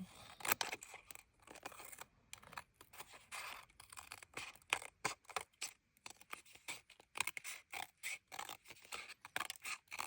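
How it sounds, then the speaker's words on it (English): Paper is torn and cut by hand for homemade holiday cards: a steady run of crisp, close ripping and crinkling bursts with short pauses between, no one speaking. "So this is just going to be me tearing and cutting paper."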